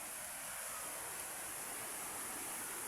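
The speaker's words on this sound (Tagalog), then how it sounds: "Ayan po yung ilog." A river flows steadily in a rural hillside area, a broad, even rush of water that stays constant throughout with no talking over it.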